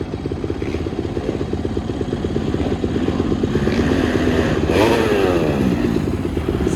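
A motorcycle engine revs hard nearby, a loud rapid pulsing roar that builds and peaks around the five-second mark before holding at high revs.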